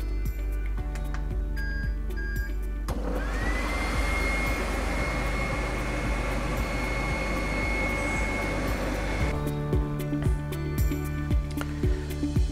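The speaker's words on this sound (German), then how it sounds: "jetzt brate ich das Ganze in der Actifry 15 Minuten an" An ActiFry air fryer runs while frying turkey strips, its steady whirring hum with a high whine rising after a few seconds and holding for about six seconds before cutting off, with faint clicks before and after.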